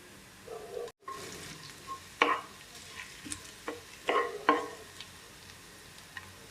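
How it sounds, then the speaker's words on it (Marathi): Ginger and garlic fry in a pan for a momo chutney, a steady low sizzle broken by several sharp scraping stirs of a spoon against the pan. "आपल्याला अद्रक आणि लसूण ब्राऊन होऊ द्यायचा नाही आहे हलकासा याचा कच्चेपणा जायपर्यंत भाजून घ्यायचा आहे आपल्याला"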